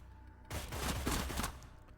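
Full-auto gunfire in the video game Cyber Knights: Flashpoint: a loud, dense burst of rapid shots bursts in after a brief quiet moment and rattles on for about a second before fading into a decaying tail.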